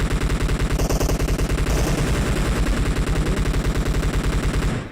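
Loud automatic gunfire from the battle royale video game PUBG BGMI rattles in a rapid, unbroken stream of shots for the whole stretch, with no voices.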